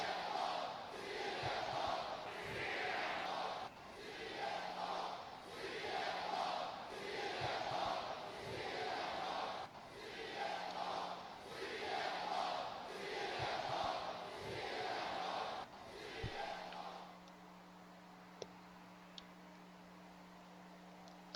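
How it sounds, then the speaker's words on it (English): A wrestling arena crowd chants "CM Punk" in a steady repeating rhythm, loud and echoing in waves for about sixteen seconds before the chanting stops and only faint arena murmur remains. "The TM Punk chants going off in the crowd here."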